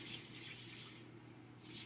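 Short bursts of liquid spray onto a hand, a soft hissing mist that pauses briefly in the middle and then resumes, close and fairly quiet with no talking.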